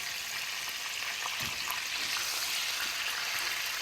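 Fish frying in a pan of hot oil, just turned for the first time, well browned and crispy, giving a dense, steady sizzle and crackle with small pops throughout, close and loud, no speech.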